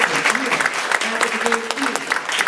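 An audience at a high school event applauds the school's debate team, producing a brief burst of dense clapping with some voices mixed in.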